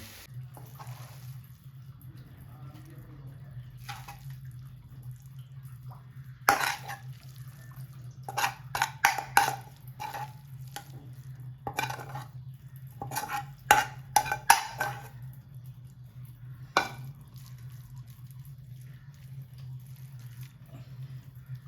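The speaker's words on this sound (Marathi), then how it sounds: "शिजली आपली मॅगी आपण बंद करू गॅस आणि काढून घेऊ आपली प्लेटीत." Cooked egg Maggi noodles scraped from a pan onto a plate, with a steady low hum beneath scattered close clinks, scrapes and stirring sounds clustered in bursts, no voices.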